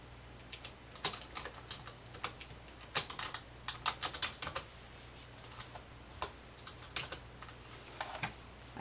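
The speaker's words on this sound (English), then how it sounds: "I type in the first name and last name and then I say OK." Irregular clicks of computer keyboard keys as a first and last name are typed, quiet and close, in short clustered bursts with brief pauses and no talking.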